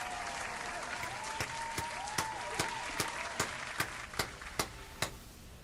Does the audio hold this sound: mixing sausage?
no